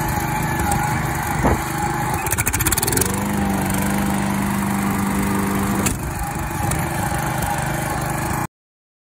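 A walk-behind lawn mower runs with its blade engaged, a loud steady engine drone with a brief change in pitch midway before cutting off abruptly near the end.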